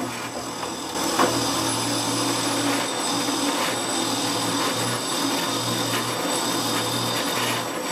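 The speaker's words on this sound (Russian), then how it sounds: "Для начала отверстие здесь просверлю." Power drill boring a hole into a walnut wood blank for a lathe bowl, a continuous whirring drone with a steady hum and gritty wood-cutting noise throughout, close and fairly loud.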